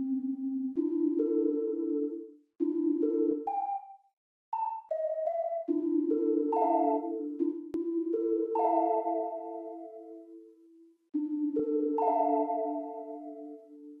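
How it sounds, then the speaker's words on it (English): A dark trap production beat plays a bell or key sample, with clear ringing tonal notes in a slow, halting melody and short gaps, no voices. "I usually like to start with a key or a bell."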